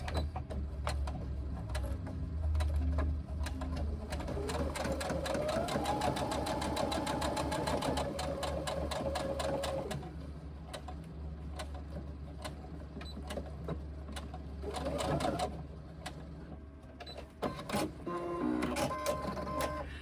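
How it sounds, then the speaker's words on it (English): Sewing machine stitching the final side seam of a reversible tote bag, a steady close mechanical whirr running almost continuously with brief changes in speed and a few soft clicks near the end. "So now sew our last side seam."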